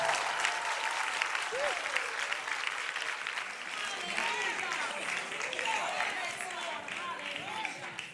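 A church congregation applauds at an evening service, a steady, fairly soft wash of clapping that runs the whole way through, with scattered voices mixed in.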